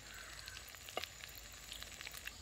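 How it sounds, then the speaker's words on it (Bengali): Chicken liver and gizzard fry slowly in a pan, giving a soft, steady sizzle with scattered pops and light crackles, fairly quiet and close, with no voices. "এগুলো কম আছে, একটু সময় নিয়ে ভাজবো"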